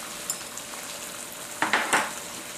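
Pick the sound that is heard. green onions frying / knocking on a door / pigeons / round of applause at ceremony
green onions frying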